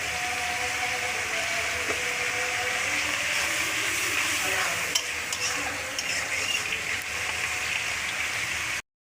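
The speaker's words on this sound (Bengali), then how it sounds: "সেই তেলে এখন পেঁয়াজটা হচ্ছে ভাজে নিব হালকা লাল লাল করে।" Onions fry in oil with a pinch of salt, a dense continuous sizzle heard up close with light stirring, running steadily without any voices before cutting off abruptly.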